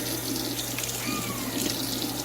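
Tap water runs steadily into a sink while a kitten, a Persian or Himalayan, is being bathed. The flow is close and continuous, with a faint mains hum underneath and no talk.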